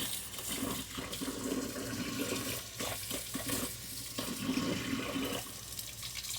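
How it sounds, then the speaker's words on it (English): Running tap water pours steadily into a sink as canning jars are washed, a continuous close splashing and gurgling rush with no talking. "I'm getting ready to wash my jars"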